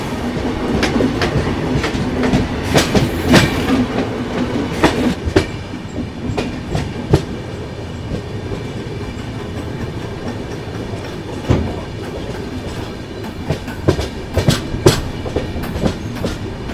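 The Howrah Jan Shatabdi Express runs steadily with rhythmic clickety-clack of wheels over rail joints, loud and close from inside the carriage, with repeated sharp clunks and no talking.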